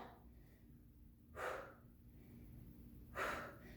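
Two short forceful exhales during a postpartum shoulder workout, breathed out with dumbbell curls and spaced a couple of seconds apart, close and fairly soft over a low background.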